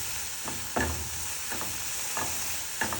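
Mixed vegetables frying in a pan, a constant sizzle broken by several scraping stirs spaced roughly evenly, close up and without voices.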